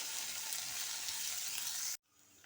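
Sweet pumpkin skin fries in a pan with a steady, fairly quiet sizzle that cuts off abruptly near the end.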